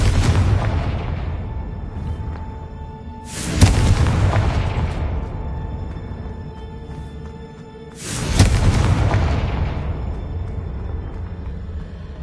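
Two deep booming blasts from the Confringo spell in Hogwarts Legacy, about five seconds apart, each a loud burst that rolls off into a long rumbling decay.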